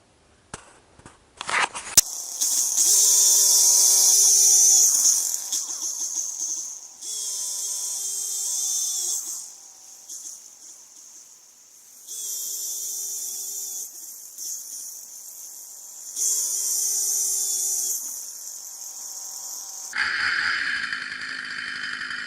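A motorized ice drill revs in several separate bursts with pauses between while ice fishing for bluegill in Wisconsin, loud and close, its pitch wavering as it bites into the ice.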